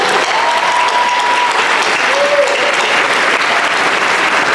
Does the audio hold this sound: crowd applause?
yes